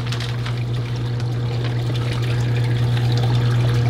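Water pours steadily over a large custom build being soaked beside a drip pool, a constant splashing trickle with a low hum beneath it.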